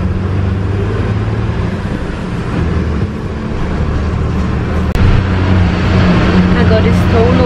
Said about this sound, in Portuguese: Agora estou no ônibus indo encontrar o Victor